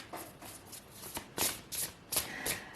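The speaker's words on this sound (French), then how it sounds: "Je vais piger d'autres cartes." Playing cards being shuffled and drawn for a tarot-style reading, a run of crisp riffling bursts and slaps at close range, with no one talking.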